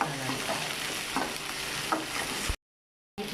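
Masala paste sautés in a pan for chicken fry, a steady close sizzle with spatula scrapes and stirring knocks, cut by a brief dead silence before resuming.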